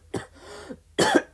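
Two close, harsh coughs with a short throat-clearing rasp between them, loud and near.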